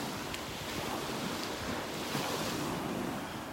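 Ocean surf and wind on a beach in North Naples, Florida, with water churned muddy by offshore storms: a steady, loud broadband wash of breaking waves and gusting wind across the microphone, with no voices.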